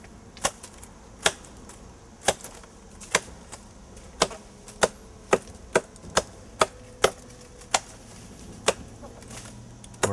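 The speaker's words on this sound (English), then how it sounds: "You can see how we've cut through the entire vine," A tool slices down through a thick English ivy vine on a tree trunk, giving a series of sharp, crisp cutting strokes at an uneven, fairly quick rhythm, close and clear over quiet outdoor background.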